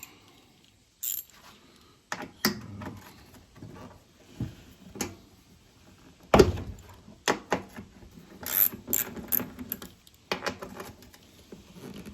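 Hand ratchet backing out half-inch bolts from a snowblower, with scattered clicking bursts, metallic clanks and brief knocks, close by and fairly quiet, separated by short pauses.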